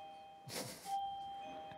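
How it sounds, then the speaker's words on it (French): A doorbell rings at a front door, two clear chime tones standing out against quiet room noise, with no voices over it. "C'est Juste quelqu'un qui sonne à la porte."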